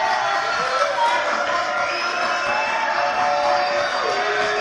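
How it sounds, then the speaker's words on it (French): A television studio audience claps and cheers in a broad, sustained wash of applause with scattered whoops, loud and steady from start to finish. "Allez, applaudissements."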